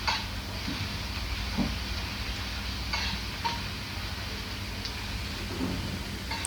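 Ginger, garlic, chili and coriander paste frying with onion in oil over a low flame, a soft steady sizzle with a few faint stirring scrapes, fairly quiet and continuous.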